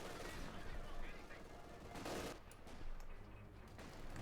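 Machine gun fire from Company of Heroes 2 battle crackles in a constant, busy rattle of shots, mixed with broader explosive rumbles and battlefield din throughout.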